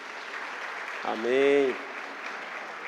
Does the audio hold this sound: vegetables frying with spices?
no